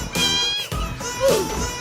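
A cat meows in the video game Guild Wars 2, with a rising and falling call heard close and fairly loud over busy game sounds and music, lasting a little under two seconds.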